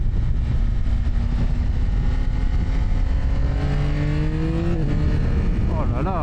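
A Yamaha XSR900 GP motorcycle accelerating hard with a quickshifter: a loud, rising engine note climbing through gears with quick shift breaks near the end, heard up close from the rider's position under steady wind roar.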